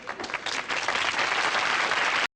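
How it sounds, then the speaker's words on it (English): Canned applause from the sitcom Diff'rent Strokes plays as a dense burst of studio clapping, loud and uniform, cutting off abruptly at the end. "that awful clap track will continue to be what claps us off to commercial"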